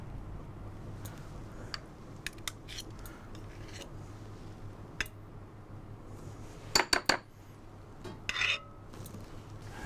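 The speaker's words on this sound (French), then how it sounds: "Je prends un petit peu de purée de butternut." Utensils clink and tap against a plate while butternut purée is plated, a few quiet scattered clicks followed by a brief cluster of sharper metallic taps over a faint room hum.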